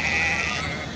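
Sheep bleating at a livestock market in Beylagan, Azerbaijan, one loud, drawn-out bleat close by against busy market noise.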